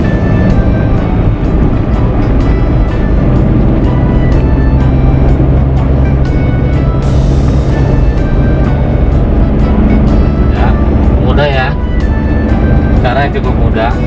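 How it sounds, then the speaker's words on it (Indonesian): Manual car cruising in fifth gear after an upshift at about 3000 rpm, with a steady, loud engine and road drone running throughout and a person talking over it. "udah nginjak 3000 lagi, kita naikkan gigi 5"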